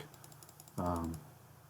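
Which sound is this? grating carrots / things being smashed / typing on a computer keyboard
typing on a computer keyboard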